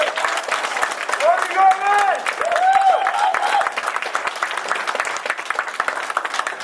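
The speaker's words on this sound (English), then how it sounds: "let's give him a warm round of applause" Wedding guests at an evening reception break into a warm round of applause. The dense, close clapping runs throughout, with voices and cheers rising briefly through it near the start.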